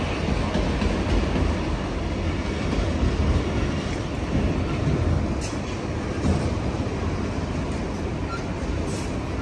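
A Union Pacific auto rack freight train rolls past the Oakland Coliseum Amtrak station, a steady loud broadband rumble of wagons with faint wheel clatter throughout, close by and without voices.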